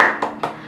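Two sharp hand claps, evenly spaced and close, from first-grade children doing a rhythmic clap chant in class, with no voices heard.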